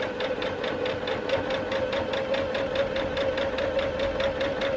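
Sewing machine stitching a seam on a small fabric card wallet, a continuous fast rhythmic hum and needle tapping, close and steady throughout, with no talking.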